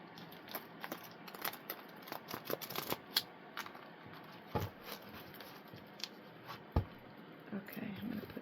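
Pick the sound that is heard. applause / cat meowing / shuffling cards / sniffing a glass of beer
shuffling cards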